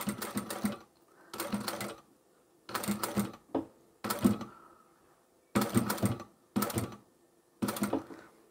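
A sewing machine stitches over a fold of quilted fabric for a simple handbag, running in seven or eight short bursts of rapid mechanical clatter separated by brief pauses, close and clear.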